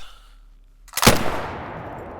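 A single sharp rifle shot in the hunting game theHunter Call of the Wild, a loud crack after a quiet moment followed by a rolling echoing tail.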